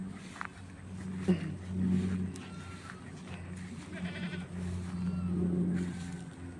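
Goats bleat a few times at moderate distance over a steady low hum, with faint background activity between calls.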